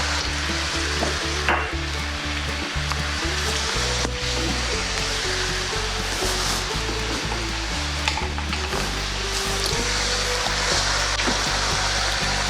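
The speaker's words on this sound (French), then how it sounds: "On va laisser mijoter doucement pour que le macaroni continue sa cuisson" Macaroni simmering gently in a pan with canola oil for Chinese-style macaroni, a steady close sizzle and fry with occasional stirring clicks and scrapes running throughout, with no voices.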